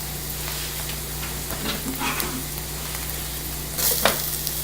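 Diced onions and garlic hitting a hot pan after toasting, a steady close sizzle that swells with a brighter crackle and stirring scrape near the end.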